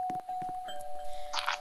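A doorbell chiming in the game Brookhaven, a steady bright tone holding under a few soft thuds and faint background sounds, with no one speaking.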